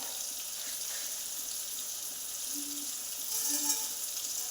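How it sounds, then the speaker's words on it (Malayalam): Fenugreek seeds sizzle in hot oil in a pan, a steady close hiss of frying that swells slightly near the end, with faint clinks and no speech. "കുറച്ച് ഉലുവ ഇട്ടു."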